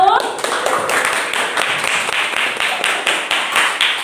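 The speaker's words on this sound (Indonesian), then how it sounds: "Tepuk tangan dulu untuk kelompok 1." A classroom of students claps for a student group after their poster presentation, a brisk run of individual hand claps with a clear pulsing rhythm, fairly close and moderately loud, with some voices mixed in.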